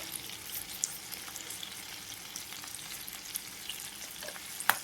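Rice frying with salt and turmeric in a pan, a soft continuous sizzle with occasional faint scrapes of stirring, close but fairly quiet and without voices.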